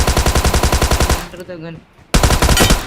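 Bursts of rapid automatic gunfire from the battle royale game BGMI (PUBG) hammer loudly in quick rhythm, break off for a moment of quieter game sound, then resume hard.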